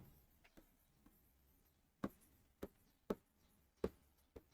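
Math is written on paper by hand, sounding as a few quiet, sharp taps and scratches from pen strokes, spaced irregularly, close by over near silence.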